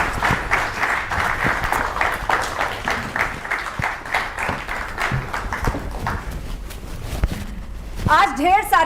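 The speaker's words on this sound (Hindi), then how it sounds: "जोरदार तालियों के साथ स्वागत कीजिए पंडित" A studio audience applauds to welcome Pandit Pradeep Mishra, with sustained, fairly loud clapping from many hands that tapers near the end as a voice briefly comes in.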